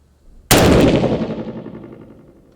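A single loud rifle shot fired with reloaded brass at an outdoor shooting range cracks sharply and then rolls away in a long echoing tail over about two seconds, with no talk.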